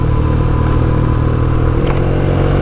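A motorbike engine idles and runs close by on a mountain road trip through the Dolomites, a loud, steady low rumble that carries on throughout, with a brief brighter burst near the end.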